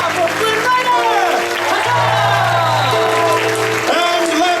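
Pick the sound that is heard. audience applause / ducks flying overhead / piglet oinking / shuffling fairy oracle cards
audience applause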